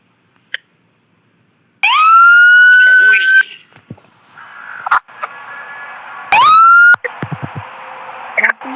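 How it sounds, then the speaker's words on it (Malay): A loud synthetic ambulance siren in Roblox wails in short rising bursts, separated by gaps filled with electronic game tones and brief clicks. "Cuba kau dengar siren ya."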